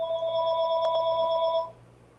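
A house telephone rings with one steady electronic tone lasting about a second and a half before cutting off, fairly loud and close, with no voices over it.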